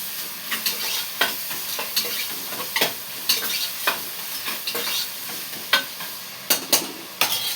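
Mutton mixed with salt, turmeric, chilli and curd cooks in a pan, a steady broadband sizzle broken by repeated scraping stir strokes at an uneven rhythm, fairly close and moderately loud, with no talking.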